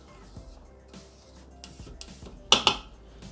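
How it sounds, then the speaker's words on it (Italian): A spatula scraping down the inside of a Thermomix TM6 mixing bowl, heard as soft, faint scuffs followed by two sharp, close knocks against the bowl near the end. "Riuniamo sul fondo del boccale con la spatola."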